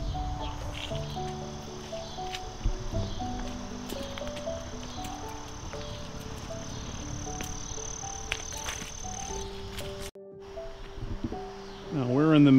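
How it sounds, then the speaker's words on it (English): Cicadas in the Midwest drone outdoors in a steady, high buzz through most of the stretch. It sits under other tonal background sounds, cuts out briefly near the end, and then returns. "so we have cicadas around here. Do you hear them?"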